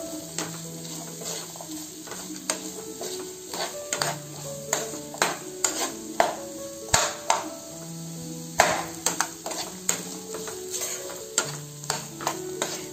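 Potato pieces with salt stirred in a frying pan, irregular spatula scrapes and taps over a light sizzle, with music playing throughout.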